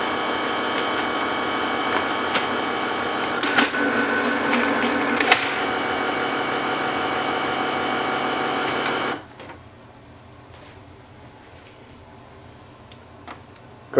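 A Canon TS3720 inkjet printer feeds paper after a jam, a steady mechanical whir with rhythmic ticking and a few louder clunks, then drops to a quiet idle hum with faint clicks.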